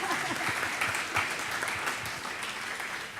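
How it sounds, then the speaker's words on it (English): An audience applauds for a panel of four speakers, with steady dense clapping throughout at moderate level and no talk over it. "Give Josh and Crystal and Ann and Jake a round of applause for that."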